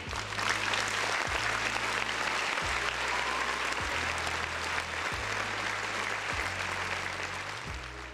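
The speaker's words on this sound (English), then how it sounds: "Round of applause for the folks in the chat." Sustained applause from a crowd fills the whole stretch, steady and dense with a faint low music bed pulsing underneath, no voices standing out.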